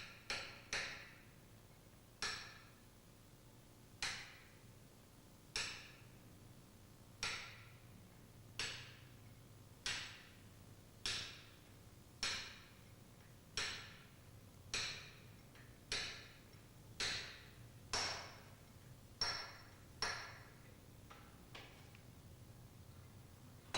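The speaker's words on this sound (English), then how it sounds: "If the bearing does not slide in smoothly, lightly tap the bearing inner race with a caulking chisel." A caulking chisel lightly taps the inner race of a ball bearing on a Mitsubishi Selfjector purifier drive shaft: about fifteen evenly spaced, crisp metallic taps, close and fairly quiet over a low mechanical hum.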